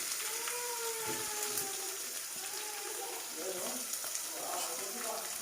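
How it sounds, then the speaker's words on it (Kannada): Sliced onions hit a hot pan and sizzle steadily, a broad hiss of frying with light stirring, while a voice talks over it during home cooking of festival dishes. "ಇದಕ್ಕೆ ನಾನು 2 ಈರುಳ್ಳಿನ ಉದ್ದುದ್ದು ಕಟ್ ಮಾಡ್ಕೊಂಡಿದ್ದೀನಿ, ಅದನ್ನು ಹಾಕೋತಾ ಇದ್ದೀನಿ"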